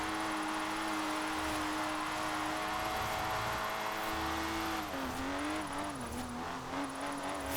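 A mid-engine car in Forza Horizon 4, built cheaply for drifting, drones steadily at high revs with a sustained engine whine that dips and wavers as it slides through a drift, with no voices.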